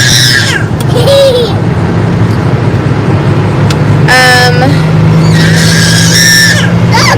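A child lets out shrill, high-pitched screams in short bursts, near and loud, over a constant background rumble.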